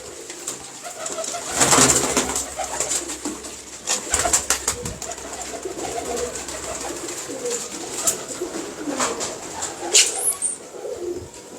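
Pigeons coo steadily in a fancier's loft, soft repeated throaty calls close by, with occasional bursts of louder cooing and faint wing flutters against a constant background hiss.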